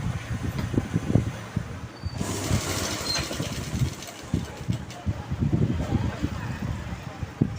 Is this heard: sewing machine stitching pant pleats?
yes